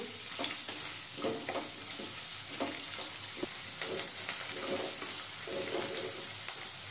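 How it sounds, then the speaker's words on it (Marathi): Two large onions fry in a pan for a Kolhapuri-style vegetable masala, a steady close sizzle broken by repeated scraping clicks of stirring that sound continuously through the whole stretch. "कांदा आपण गोल्डन रंगावर परतून घेऊ"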